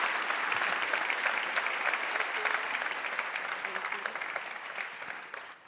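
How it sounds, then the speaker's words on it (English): An audience at a university sustainability day opening event breaks into steady, dense applause, many hands clapping together and tapering off slightly toward the end. "Please come to the stage and give them a big applause"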